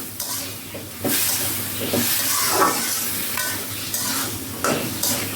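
Dried fish fries in a hot pan with a steady, loud sizzle, broken by repeated scraping strokes of a spatula as it is stirred.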